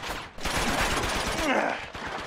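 Enemy gunfire in Uncharted 2, a loud continuous burst of rapid shots filling the whole moment, close and dense, with someone talking faintly underneath.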